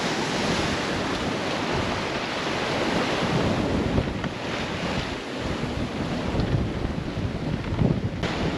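Rough, confused waves crash and rush beneath a steady howl of wind in a 30-knot squall on the English Channel, heard aboard a sailboat as a loud, continuous wash with no voices.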